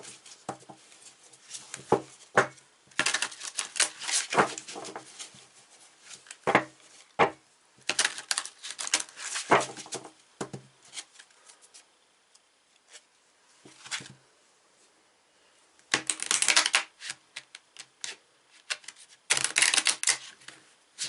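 A large tarot deck being shuffled by hand in repeated bursts of crisp card riffles and slaps, close and fairly loud, with short pauses between rounds.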